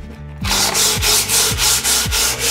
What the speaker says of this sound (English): If we sand in the same direction of the grain,